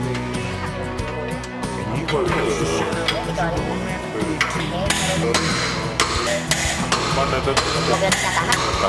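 Repeated metallic hammer strikes ring out in an irregular rhythm, driving a leaf spring pin on a Mitsubishi Canter truck, over a noisy background, growing sharper and more frequent toward the end.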